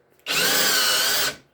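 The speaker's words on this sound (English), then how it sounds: "this new Flex drill driver, their basic non-turbo one, is pretty freaking quiet" A Flex FX1151 drill driver, the basic non-turbo model, drives a 4-inch screw at speed 2. It makes a loud, steady high-pitched whir that starts abruptly, holds for about a second and then stops.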